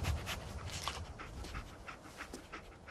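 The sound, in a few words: Dogmeat the dog panting in Fallout 4 (video game)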